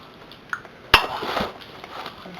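A spoon knocks against a cooking pot, first with a light tap and then with a sharper metallic clank, followed by a brief scraping swirl in a quiet kitchen.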